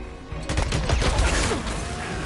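A rapid burst of gunfire in the video game Days Gone, several loud overlapping shots crackling close up over about two seconds with no talking.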